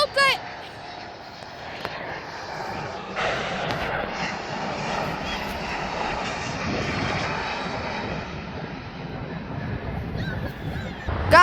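A jet airliner taxis at Atlanta's international airport, its engines giving a loud, steady roar and whine that lasts the whole stretch, heard from nearby, with people talking at the start and end.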